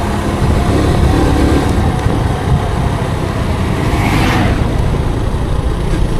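Motorcycle ridden on the road in Nueva Vizcaya, a loud continuous engine and wind rumble throughout with a brief passing swell near the middle.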